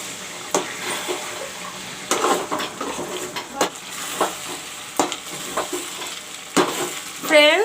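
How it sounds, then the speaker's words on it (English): Chicken fried with a homemade masala paste is stirred in a pan, giving a steady close sizzle broken by repeated scraping strokes of the spoon. "Now I will fry the masalas along with the chicken."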